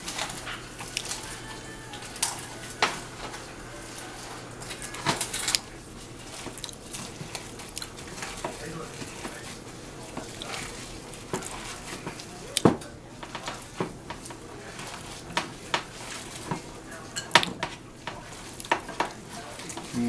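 A spoon works melted butter into a crabmeat and mushroom stuffing in a bowl, making soft, irregular scraping and squishing strokes with sharper clicks scattered throughout, quiet and close.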